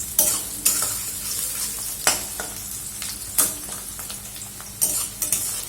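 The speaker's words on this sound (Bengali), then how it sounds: "পেঁয়াজটাকে আমি একটু হালকা করে ভেজে নেব" Chopped onions are stirred and fried light pink in a pan over a high gas flame, with several sharp scraping strokes of the spoon punctuating a continuous close sizzle. No one talks.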